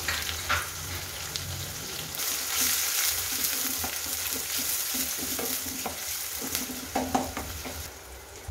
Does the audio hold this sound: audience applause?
no